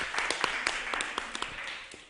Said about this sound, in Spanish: Un aplauso así todo.